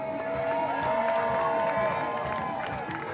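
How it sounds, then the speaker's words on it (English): Outdoor crowd cheering and clapping at a children's carnival parade in St. Thomas, a steady loud din of many voices with some tonal sounds running through it. "we ask that you all give a round of applause for our Moko Jumbies"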